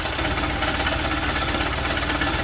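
A WWII Jeep's Westinghouse T1 air compressor runs unloaded, a steady, loud, close mechanical chugging with a fast regular pulse and continuous rattle.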